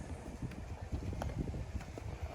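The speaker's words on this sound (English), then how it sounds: "It's kind of windy right now" Gusty wind rumbles and buffets the microphone with a low, uneven roar that never lets up, and no voices are heard.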